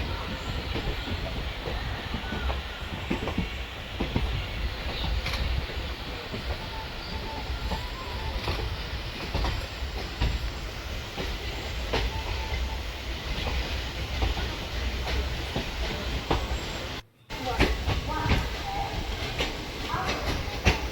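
The Guruvayur Express pulling out of Tirunelveli station, a steady rumbling roll with rhythmic wheel clatter and carriage creaks heard from on board, with a brief dropout near the end.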